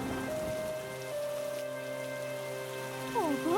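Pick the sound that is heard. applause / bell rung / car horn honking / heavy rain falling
heavy rain falling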